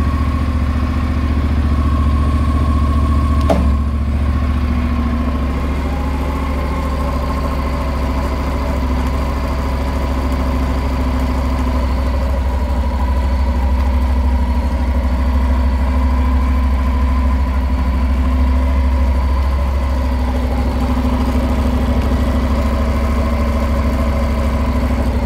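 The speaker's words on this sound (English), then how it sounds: "let's start it up and let the wheel spin" Motorcycle engine idling steadily while the rear wheel spins freely after chain wax is applied, a constant low drone with one brief click partway through and no talk.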